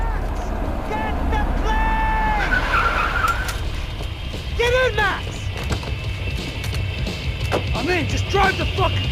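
Car driving and skidding in the video game Max Payne 3, with engine noise and squealing tire sweeps rising and falling over busy action sounds, while voices shout over the chase.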